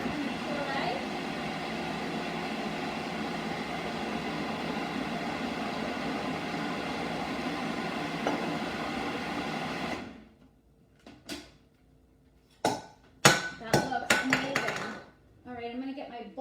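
A blender purees tomato gazpacho with a loud, steady whirring roar for about ten seconds, then cuts off, leaving clinks and clatters of kitchen handling.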